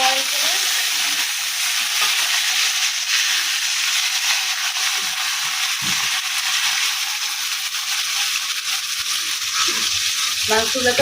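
Loud, continuous sizzle of meat frying in a pan, a dense hiss with occasional scraping and stirring noises.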